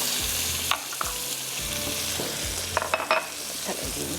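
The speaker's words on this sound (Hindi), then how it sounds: "बस हल्का सा इसको फ्राई कर लेते हैं" Mutton for dum gosht, seasoned with crushed chillies and salt, sizzles steadily in a pan, with a constant hiss and repeated scraping thumps as it is stirred.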